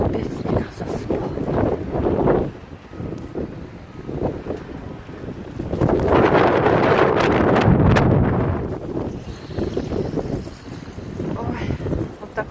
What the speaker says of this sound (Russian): вот так вот все метет